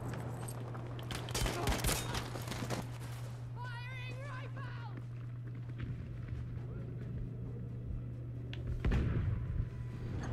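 Gunfire in Battlefield 5 Conquest multiplayer: sharp bursts of rapid shots early on and again near the end, set over a steady low engine-like hum, with a brief voice or vocal sound in between.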